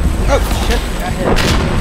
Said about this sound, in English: They're using a lot of RPGs on us.